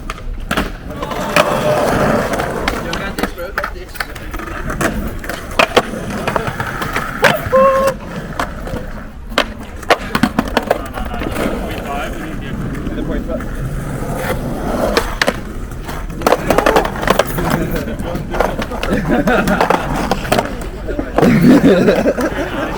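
Skateboard wheels roll and clack on pavement in London, with repeated sharp knocks and scraping grinds from a skate crew, while people chat and shout throughout.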